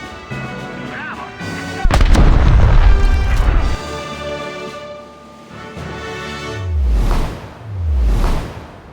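Missile explosions in a naval battle against a destroyer: a sudden loud blast rolls into a sustained rumbling roar, then two more deep booms swell and fade, heavy and close.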